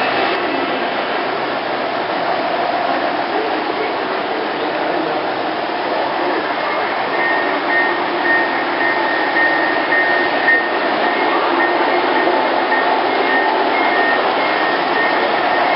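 Model trains running at a Royal Botanical Gardens holiday display, a steady mechanical whir and rumble that holds level throughout with faint crowd noise behind.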